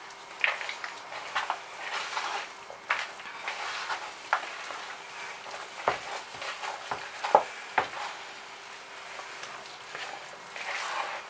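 Sultanas being stirred into stiff cookie dough, the spoon scraping and thudding through the heavy mixture in irregular strokes, with sharper knocks against the bowl toward the middle, fairly close and steady with no talking.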